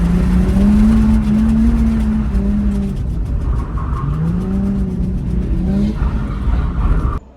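A car engine roars loudly and steadily, its pitch wavering as tires squeal through a sustained drift, easing off abruptly at the end.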